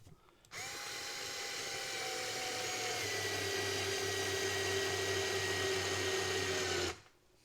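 A Ryobi 4-volt USB lithium twist-grip screwdriver whirs continuously for about six seconds while driving a 1.5-inch deck screw, its close, steady motor whine starting and stopping abruptly.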